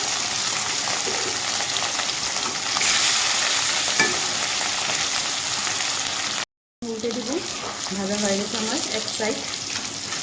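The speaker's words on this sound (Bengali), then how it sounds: "তো বাকি মাছগুলো আমি ভেজে নেব" Pieces of rohu fish frying in hot oil, a loud steady crackling sizzle that cuts out briefly, then resumes with a voice talking faintly over it.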